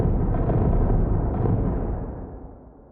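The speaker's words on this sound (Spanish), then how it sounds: "las explosiones, que van sincronizadas con esas bolas de fuego que se ven en la imagen" A sound-designed explosion for a space battle scene, timed to on-screen fireballs: one loud, deep rumbling boom that holds steady, then fades out over its last second, with no voices.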